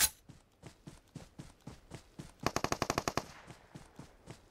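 Gunfire in the mobile battle royale game BGMI, a regular string of single shots followed by a loud rapid automatic burst, then more spaced shots, with no talk over it.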